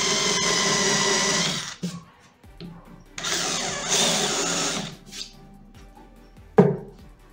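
A power drill with a one-eighth inch bit cuts a countersink in wood while building cheap furniture. Two long, loud whirring runs are separated by short pauses, followed by a few brief bursts and a sharp knock. No one speaks.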